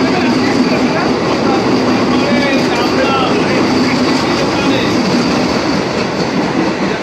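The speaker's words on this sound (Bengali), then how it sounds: "এবার ট্রেন ছেড়ে দিচ্ছে" AC local train departing toward Sealdah, heard from inside the carriage as a loud, steady rumble and roar of wheels on track throughout, with faint voices mixed in.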